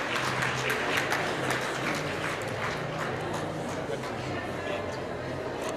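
Audience applause at an education awards ceremony as honorees leave the stage: sustained crowd clapping, steady and fairly loud throughout, with faint music or a low hum underneath.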